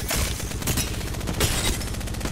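Rapid Apex Legends gunfire, loud and close, with bursts of automatic shots layered over one another in a continuous, chattering barrage and a few sharper cracks punching through.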